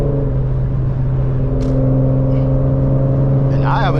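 A tuned Infiniti Q50 accelerates hard on a highway, its engine a loud, steady drone with a constant whir that holds throughout and never fades.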